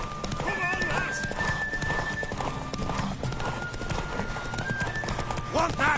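Horse hooves clip-clopping steadily alongside a horse neighing and whinnying in a video game, close and loud over a busy backing of music and effects.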